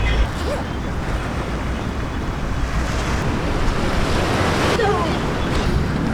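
Sea waves breaking on a beach, a continuous surf roar mixed with wind buffeting the microphone, steady throughout with a faint voice briefly audible beneath it.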